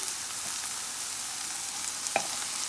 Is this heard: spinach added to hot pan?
yes